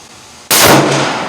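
A single .308 rifle shot cracks sharply and loudly outdoors, followed by a lingering ring and rumble that may include the bullet striking a steel target.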